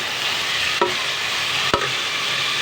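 Beef frying with garlic-ginger paste in a pot, a steady even sizzle broken by two sharp knocks of a stirring spoon against the pot, close and alone with no talking.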